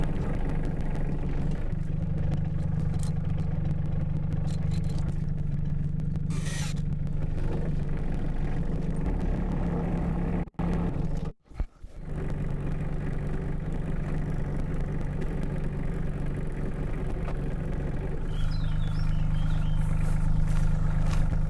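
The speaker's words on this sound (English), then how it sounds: "I'll go grab the tractor and take it to the new spot." A tractor engine runs at a steady idle outdoors, a low continuous rumble with mechanical clatter, close and constant, briefly interrupted by a couple of short knocks midway.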